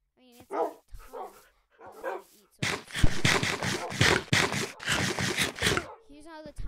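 Several dogs bark in quick, loud bursts at the owner's house on a Minecraft-style game server, following a few scattered earlier yips and voice-like sounds, then ending with a brief whine.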